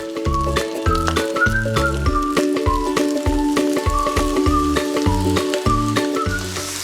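Noodles with crab meat and greens stir-fry in a hot wok with a steady, close sizzle, while prominent rhythmic music plays over it.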